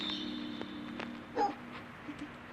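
A dog in the video game No Players Online whimpers and whines in distress, giving a few faint, short cries over a quiet ambient hum.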